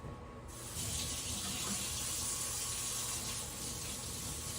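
Steady hissing stream of tap water running continuously, rinsing oils off under a faucet, after a brief quieter start.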